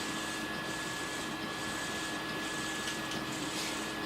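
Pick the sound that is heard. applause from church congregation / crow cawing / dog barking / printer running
printer running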